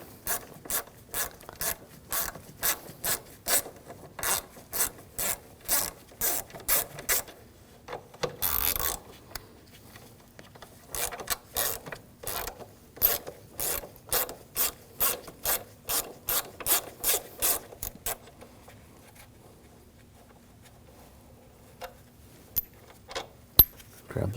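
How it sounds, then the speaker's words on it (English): A 10mm socket ratchet loosens two nuts holding the power steering reservoir on a 2007-2013 BMW 328i 3.0L inline-six, giving long runs of rapid, evenly spaced clicks up close, broken by a brief rub and pause. "Use a 10mm socket, take these two nuts off."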